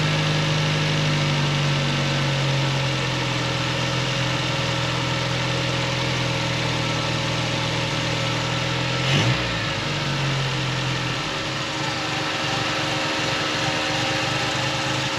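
A Triumph TR3 engine idles steadily while its carburetors are adjusted, with a constant close, loud hum, a brief blip around the middle, then a slightly lower, rougher idle.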